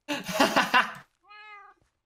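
A Minecraft cat meows once, a short clear tonal call heard right after a burst of noisy, crackly sound at close range.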